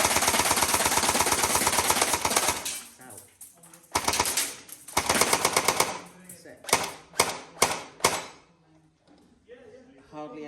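A Tokyo Marui AA-12 electric airsoft shotgun fires full auto, first as a long, loud, rapid mechanical rattle, then as several shorter bursts with brief gaps between them, close to the listener.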